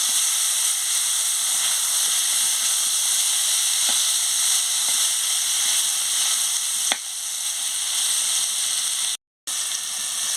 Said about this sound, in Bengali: ডাঁটাটা দিয়ে ভালো করে ভেজে নিচ্ছি।